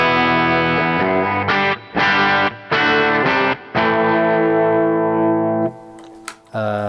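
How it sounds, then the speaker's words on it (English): Harley Benton TE-20HH electric guitar played through its bridge pickup with distortion and effects, a string of loud sustained chords with brief gaps between strums and a final chord that rings and decays, with no voices. "All right, so this is the bridge pickup."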